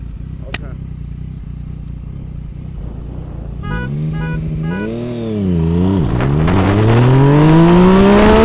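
A Yamaha FZ09 motorcycle races an 819 hp Lucid Air EV from a standing start: the bike's engine revs up through several rising gear pulls, growing louder and continuous, with brief voices near the start.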